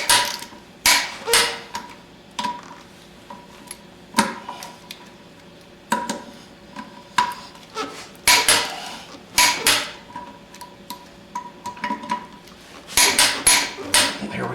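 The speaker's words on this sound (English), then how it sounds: "Okay, I've got this torque wrench set to 115 Newton meters, equivalent to about 85 foot-pounds." A torque wrench tightening wheel bolts on a Mercedes 300D set to 115 newton meters, giving sharp metallic clicks and clanks in irregular bursts, close and clear against a quiet background.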